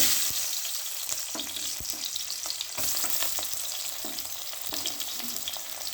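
Onion fries in hot oil with spluttered mustard seeds for a green gram curry, a close, busy sizzle broken by repeated sharp crackles and stirring scrapes, steady and without voices.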